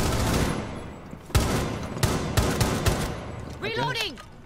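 Rainbow Six Siege gunfire: dense, continuous rattling fire throughout, with a few sharper single cracks standing out. A voice speaks briefly near the end.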